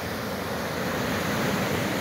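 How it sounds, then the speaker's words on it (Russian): Floodwater pours over a federal highway near the village of Reshety on the Novosibirsk–Kochki–Pavlodar route, where an overwhelmed drainage pipe lets water wash across the road, making a loud, steady rush of flowing water with no speech. "Вода продолжает прибывать, и, как мы видим, в нескольких местах размывает федеральную трассу."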